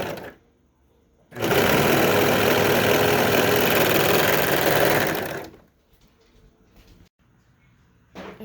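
A serger stitches stretched binding onto a garment neckline in one loud, continuous run of about four seconds, starting abruptly and then winding down into quiet room sound with small handling noises.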